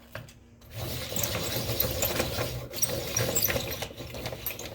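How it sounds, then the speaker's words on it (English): A pencil sharpener sharpens colored pencils, a steady close grinding, ratcheting rasp that starts after a short pause and runs for about four seconds with small fluctuations, with no talking. "Nothing like the sound of a sharpener in the morning."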